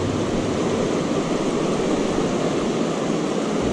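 Rushing river water cranking along at a fishing spot, a loud, steady, broadband roar that holds constant throughout with no voices.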